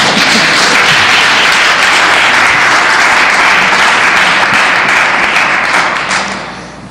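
Loud, dense applause from an audience at a school board meeting in Highland Park, New Jersey, sustained for several seconds before tapering off near the end.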